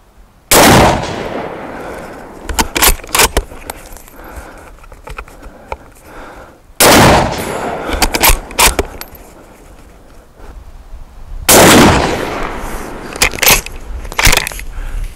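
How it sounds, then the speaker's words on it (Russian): Three loud shots from a Haenel Jaeger 10 rifle in .308 Win ring out alone at a range, spaced several seconds apart, each a sharp crack followed by a rolling echo and quieter outdoor rustling between. "Ну все, произвели 3 выстрела"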